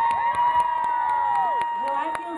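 Fans cheering and applauding at a live pop-folk concert, loud sustained crowd noise with whoops and high-pitched shouts, steady throughout.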